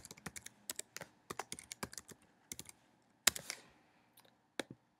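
Fingers type on a computer keyboard, producing quick, close clusters of crisp key clicks with short pauses and one louder keystroke midway.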